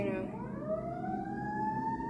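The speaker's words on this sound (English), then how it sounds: "Sorry, sirens, I live near a hospital." A wailing emergency siren near a hospital rises and sweeps upward in pitch, steady and moderately distant, with low traffic rumble and a faint voice beneath.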